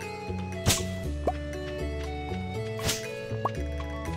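A watering can being filled in the farming game Stardew Valley gives a few soft, light drips and plops, spaced about every second or two, over steady background game music.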